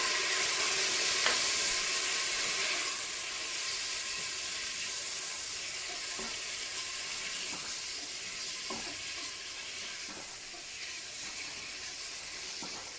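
Meat browning with salt, pepper, saffron, ginger and turmeric in a Cookeo pot for Moroccan harira, a steady hissing sizzle with occasional faint clicks and pops, no talking.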